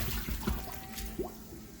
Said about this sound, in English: drain the rice noodles, and give them a quick rinse under cold running water.